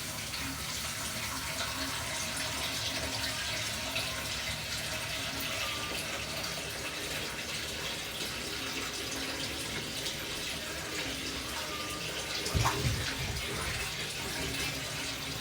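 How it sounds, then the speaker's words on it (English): A faint, steady stream of tap water runs continuously as a banana is washed under the faucet in a home kitchen, with a brief louder splash near the end and no talking. "I just wash the banana because it's got label on it as well."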